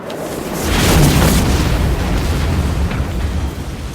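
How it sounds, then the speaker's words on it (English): A deep, loud explosion in the video game Batman: Arkham City swells into a heavy booming roar that lingers as a sustained rumble for several seconds, with no talk over it. "Batman gliding with the explosion behind him."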